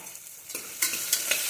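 Vegetables for palak pulao fry in a pan with a soft sizzle, with a few sharp stirring scrapes of a spoon against the pan toward the end.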